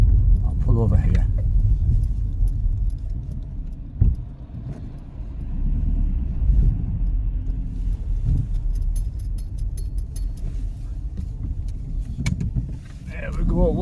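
A car on the streets of Durham slows, pulls over and turns around. Its low engine rumble and road noise are steady and close inside the cabin, with a voice talking over the top.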